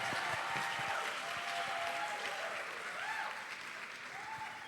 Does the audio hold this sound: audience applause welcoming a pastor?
yes